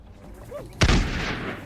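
Musketeers fire a volley in a strategy video game: one sharp, loud crack that rolls into a rumbling tail. A faint voice comes just before it.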